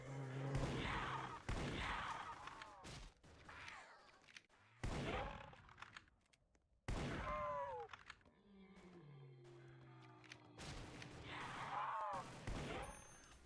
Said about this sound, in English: Now let's see the Remington in action.